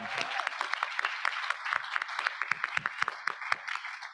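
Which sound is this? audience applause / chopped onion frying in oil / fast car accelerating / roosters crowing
audience applause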